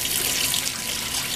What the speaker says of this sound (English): I'm just going to try and pour as much of the hot boiling water out as possible